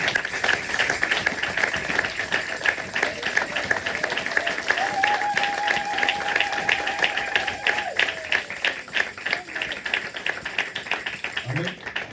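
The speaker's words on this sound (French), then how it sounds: "Nous allons acclamer la parole de Dieu." A church congregation at a Sunday service claps together in a dense, steady rhythm that fills the room, with a sustained vocal tone rising above the applause partway through.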